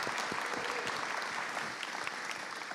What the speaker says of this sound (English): Please give Katherine Andrews a big round of applause.